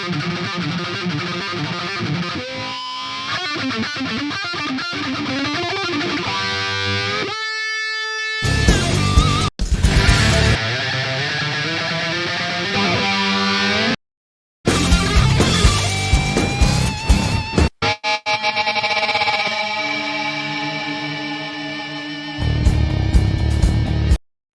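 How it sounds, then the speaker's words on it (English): Shredding electric guitar from raw multitrack recordings, with heavily distorted fast riffs and runs, sustained squealing notes, abrupt stops and brief silent gaps between loud, dense passages. "we got some guitar shredding"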